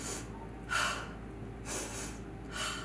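A voice mimics a rabbit's breathing during kids' yoga, making short, quick sniffing breaths through the nose in three separate bursts, close and fairly loud with no other talk.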